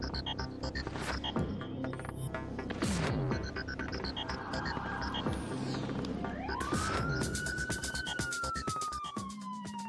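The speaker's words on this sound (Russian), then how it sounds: "Отблески полицейских мигалок и сирены машин сопровождения." Police escort cars in the Ukrainian president's motorcade sound their sirens, a rising wail sweeping up and holding steady over loud, busy street traffic and engine noise.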